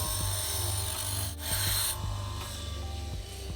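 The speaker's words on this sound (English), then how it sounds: "just a bench grinder. Makes light work when you need to just sand down the guides." A bench grinder sands down fishing rod guides, a steady close rasping, grinding rub under a low motor drone that eases off slightly partway through, with no talking.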